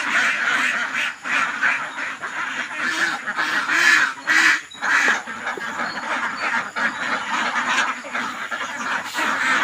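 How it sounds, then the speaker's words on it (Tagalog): Domestic ducks released from their netted pen on a farm, with a dense, continuous chorus of loud, overlapping quacking close by throughout. "ito na po yung ating itik ipapalabas na po natin"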